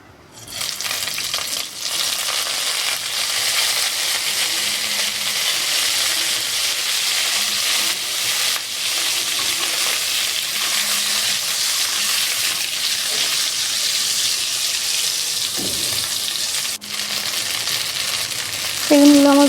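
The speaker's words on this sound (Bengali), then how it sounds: "এবার আমি মাছ ভাজা তেলের মধ্যে বেগুনগুলো ভেজে নেব।" Eggplant pieces frying in oil left over from frying hilsa fish produce a loud, continuous sizzle up close, with occasional clinks and stirring noises and a short scrape near the end.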